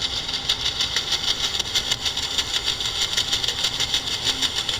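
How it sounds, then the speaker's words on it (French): Cargo ship propeller cavitation picked up on submarine sonar: a steady broadband hiss with a fast, regular pulsing beat from the propeller, continuous and fairly faint throughout, no voices. "Ce que l'on perçoit, c'est le bruit de cavitation de l'hélice du cargo."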